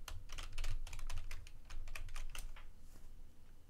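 Rapid, uneven clatter of keys on a computer keyboard, heard close and alone with no talking, the pace slowing and thinning toward the end.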